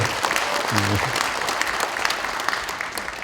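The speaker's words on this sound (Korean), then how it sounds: "들으라고 박수 한번 쳐드리세요" An audience at a Korean lawmaker's public report meeting in Gwangyang breaks into dense, loud applause that carries on steadily after a brief voice at the start.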